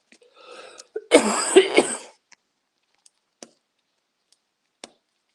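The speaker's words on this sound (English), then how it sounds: "I've got a little bit of a cough." A short burst of coughing, three or four harsh hacks in quick succession, close and fairly loud, followed by a few faint clicks in an otherwise quiet room.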